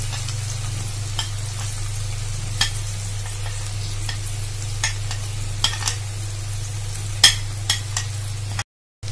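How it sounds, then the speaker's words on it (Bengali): Ginger and garlic paste fries in a pan for a river fish curry: a low steady sizzle over a constant hum, broken by sharp spoon clicks and scrapes every second or so, with no talking. "এখন আমরা একটা মশলা দিয়ে নিব, আদা বাটা, রসুন বাটা।"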